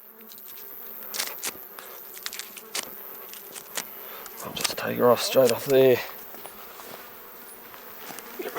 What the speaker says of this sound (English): Get rid of some of those flies and wasps.